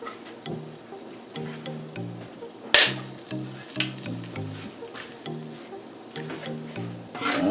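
Whole allspice sizzling in a pot over medium heat, a steady crackle with sharp pops and scattered clinks and scrapes from stirring.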